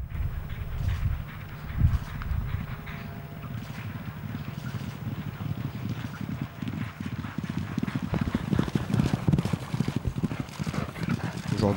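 Hooves of the Japanese racehorse Orfevre clip-clop steadily on the ground during training at Chantilly. A continuous rhythmic beat runs under wind and outdoor rumble, and voices are heard in the background.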